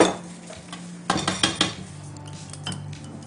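Eggs and creamy milk are whisked in a bowl, a quick run of sharp metallic clinks and scrapes against the dish, close by, between quieter stretches of faint clatter.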